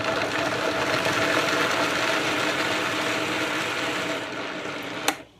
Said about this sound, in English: So that's a Vitamix. I'm gonna just turn it on.